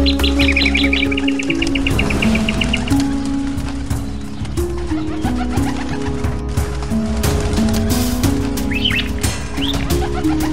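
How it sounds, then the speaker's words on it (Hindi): Birds trapped in a net chirp and tweet in short, high bursts at the start and again near the end, over a dense bed of music and background sound. "ये पंछी तो जाल में फंस गए हैं।"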